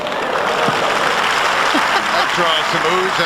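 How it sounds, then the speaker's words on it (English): The US Open tennis crowd, at a 1998 Venus Williams versus Lindsay Davenport match, reacts with a sustained swell of oohs, murmurs and some clapping throughout. "some oohs and ahs from the crowd"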